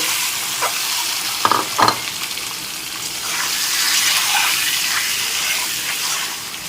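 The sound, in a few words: eggs frying and being stirred in hot oil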